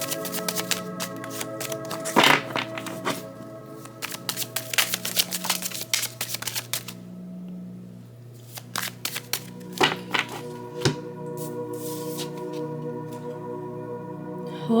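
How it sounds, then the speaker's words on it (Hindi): Tarot cards shuffled by hand at close range, crisp riffles and soft taps in irregular bursts over a faint background hum. "cards को shuffle कर लेते हैं।"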